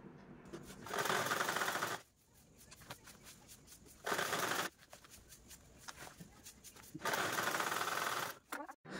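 A sewing machine stitches an old saree into a zipless storage bag in three loud, close bursts of rapid whirring, each about two seconds long, with quieter pauses between them.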